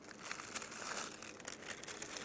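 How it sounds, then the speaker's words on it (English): Blue and yellow tissue paper is pushed and packed into plastic containers to make a homemade shaker, giving a steady, close crinkling rustle that runs without a break. "what we need to do is to just push the tissue paper into our plastic containers."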